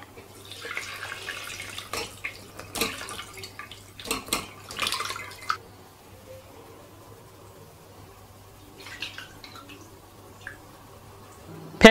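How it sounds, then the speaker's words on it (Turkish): Curdled cheese being poured through cheesecloth in a wire sieve set over a pot, giving close wet sloshing, splashing and dripping sounds in the first half, then quieter trickles and drips. "Ve buradaki peyniri tülbentin içine süzüyoruz."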